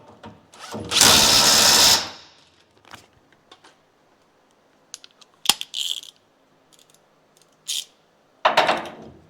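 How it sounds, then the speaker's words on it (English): A power tool tightens the rear suspension bolts on a Toyota Hilux, with one loud burst of about a second near the start, then scattered metallic clinks and a short final burst, close up and without speech. "Now that it's sitting on its own weight, we can tighten all these bolts up."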